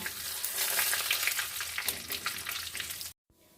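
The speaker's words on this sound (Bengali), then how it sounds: "এরপর গোটা গরম মশলা আর সাদা জিরে দিয়ে একটু নেড়ে নেব এরপর আমি কয়েকটা তেজপাতা দিয়ে দিলাম" Whole garam masala, cumin seeds and bay leaves crackle in hot oil, a bright close sizzle with stirring for about three seconds before cutting off abruptly.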